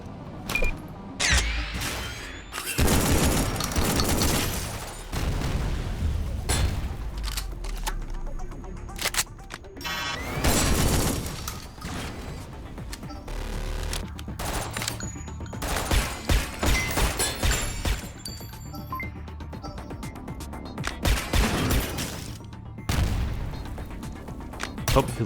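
Heavy cannon-like weapon fire during a video game battle against Clanker Domes: loud, booming blasts come in repeated clusters, with crashes and bursts of gunfire between them and near-constant loud action.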